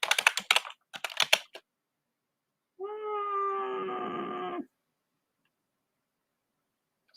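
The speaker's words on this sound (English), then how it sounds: "let's type this in so I don't have to look" Two quick bursts of typing clatter on a computer keyboard, close and crisp, followed by a cat's drawn-out meow and then silence.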